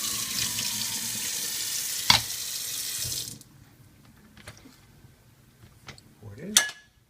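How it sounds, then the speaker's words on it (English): Kitchen tap running hard over raspberries and other fruit for breakfast oatmeal, a loud steady gush that stops abruptly partway, followed by soft clinks and handling sounds of dishes. "So I wash all my fruit."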